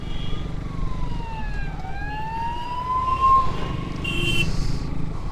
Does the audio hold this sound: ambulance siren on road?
yes